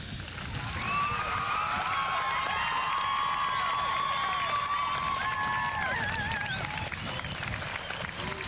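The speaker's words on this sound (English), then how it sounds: "Now you may applaud." A graduation crowd at Bellefontaine High School's 1997 commencement claps steadily in sustained, dense applause throughout, with shrill whistles rising above the clapping.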